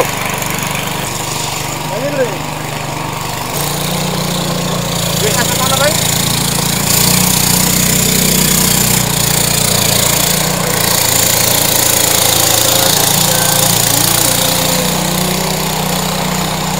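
A boat engine drones steadily and loudly throughout a river journey, a continuous rough motor hum with a slight shift in tone partway through, while people's voices and chatter are heard over it.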